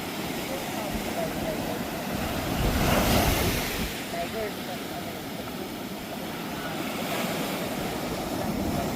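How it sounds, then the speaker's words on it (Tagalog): Powerful ocean waves crash and surge in a continuous roar, swelling louder at moments, with wind buffeting the microphone and faint voices underneath. "Malakas yung alon, no?"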